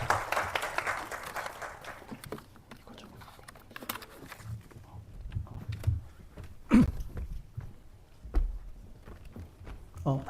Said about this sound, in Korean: 박수 한번 부탁드릴까요?